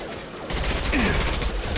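Gunfire in Mass Effect 2: after a short lull, a dense, sustained burst of rapid shooting takes over, loud and continuous to the end, with a faint voice underneath.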